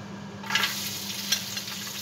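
Garlic sautéing in olive oil over medium-low heat, a soft steady sizzle that swells briefly with a few crackling spits, close and continuous with no talk.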